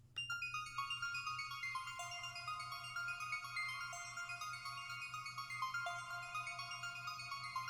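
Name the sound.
synth arp melody with a different preset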